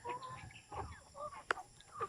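Free-range farm chickens cluck softly and intermittently at close range while waiting to be fed, with a sharp brief knock partway through.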